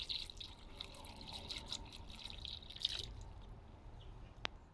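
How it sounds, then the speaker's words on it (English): Water running and trickling into a container from a garden water butt while making comfrey tea feed, a steady faint splashing flow that fades, then a single sharp click near the end. "Now we're just about finished filling this one up."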